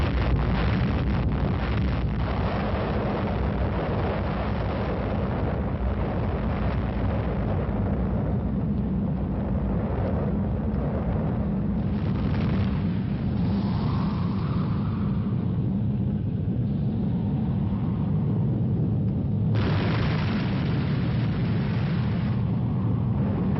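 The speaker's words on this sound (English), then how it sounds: "The countdown announces the detonation." Atomic bomb test detonation, a deep sustained roaring rumble that swells and shifts in waves, heard from a distance with wind buffeting the microphone, no voices.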